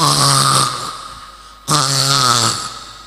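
A voice imitates snoring with two drawn-out, rasping snores separated by a brief pause, loud and close.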